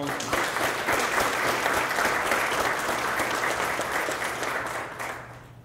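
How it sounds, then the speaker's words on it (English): Audience at a school writing night event applauding the young poets, a dense sustained burst of clapping from many hands that fades out at the end. "let's give them all one more round of applause."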